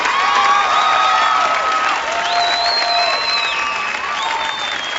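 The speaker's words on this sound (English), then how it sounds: "A round of applause for our 4 Grand Championship contenders" Sustained applause and cheering from a large crowd at a Grand Championship event, with whistles and shouts rising over the clapping throughout.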